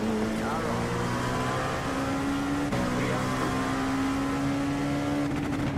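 A GT3 race car engine in the iRacing sim drones steadily at high revs throughout, its pitch holding and then rising slightly, loud and continuous with a faint voice underneath.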